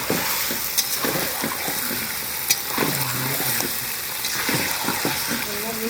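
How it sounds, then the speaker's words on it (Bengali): Chicken leg pieces sautéing in a pan for biryani, a steady close sizzle and fry with repeated scraping stir strokes throughout, faint tap water running briefly in the background. "চিকেনগুলোকে কষা হচ্ছে।"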